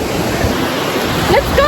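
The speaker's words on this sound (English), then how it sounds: "we are at the beach" Surf washes steadily onto a foggy beach, a broad close rush of waves mixed with wind buffeting, with a brief voice near the end.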